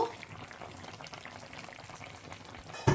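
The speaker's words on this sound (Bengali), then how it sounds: "দেখুন চিকেনগুলো নেড়ে দিচ্ছি" Chicken korma bubbling and simmering in a pan, a steady soft boiling burble throughout with faint stirring, then a louder clatter right at the end.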